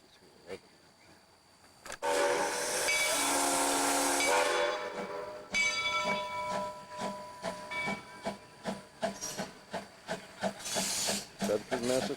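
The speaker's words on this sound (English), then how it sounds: "with a steam engine, a 2-foot gauge engine" A 2-foot gauge steam engine on the Monson Railroad gives a loud burst of hissing steam and chuffing, then rhythmic exhaust beats and clanking as it works along the track, close and strong.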